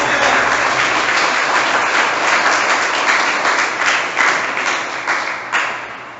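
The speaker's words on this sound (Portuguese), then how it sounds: "Vamos dar uma salva de palmas para a palavra de Deus" Catholic church congregation applauding during an evening service, loud dense clapping from many hands that holds steady and then thins out toward the end, with scattered louder claps standing out.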